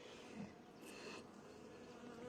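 Honeybees buzz steadily at an apiary, a close, continuous hum with a brief louder pass as one flies near, fairly quiet overall and with no talking.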